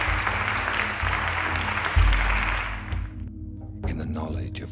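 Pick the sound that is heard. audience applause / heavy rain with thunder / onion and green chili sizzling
audience applause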